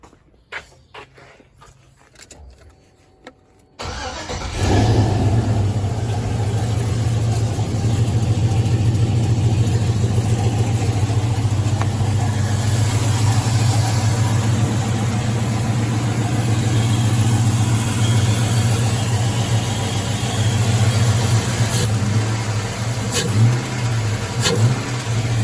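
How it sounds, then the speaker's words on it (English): A Box Chevy engine cranks over briefly and catches, then settles into a loud, steady low rumbling idle that holds close and constant for twenty seconds with slight fluctuations. "we finna crank it up real quick"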